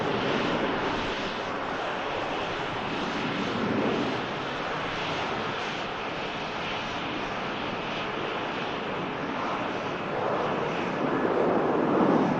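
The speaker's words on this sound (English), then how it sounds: "Jet 2 rotates, heads down to France." A Jet2 airliner on its takeoff roll at Manchester Airport, a constant broadband engine roar heard from a distance that swells slightly near the end, with no talking.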